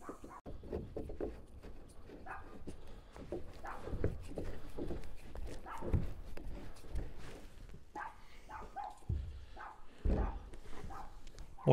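A dog barking in bursts at irregular intervals, moderately close, mixed with thuds and knocking sounds.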